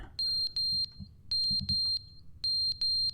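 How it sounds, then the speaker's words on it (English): A fire alarm in the video game The Stanley Parable sounds in an office, three pairs of loud, shrill electronic beeps in a steady pattern over a low background hum. "Oh, the fire alarm."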